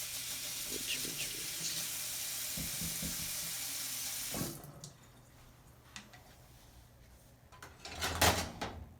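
A kitchen tap runs for rinsing during cooking, a loud steady gush of water for several seconds that cuts off abruptly, followed by quieter clinks and a burst of splashing near the end.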